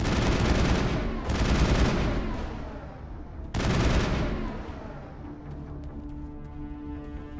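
Enemy gunfire in the game Mass Effect: loud, dense bursts of rapid shots close by, two strong volleys with a ringing tail and faint scattered pops afterward, with no voices.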